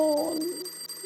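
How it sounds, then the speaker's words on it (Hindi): A bedside alarm clock rings with a continuous high electronic tone. The sound is steady and at moderate loudness, with no voices over it. "अलार्म बज रहा है।"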